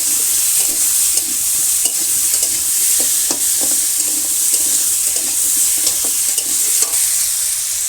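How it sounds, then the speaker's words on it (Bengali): Steady frying sizzle of potatoes with turmeric, with repeated scraping and stirring clicks from a spatula, continuous and fairly loud throughout with no voices. "এবার এটা লাল লাল করে হালকা করে ভেজে নেবো"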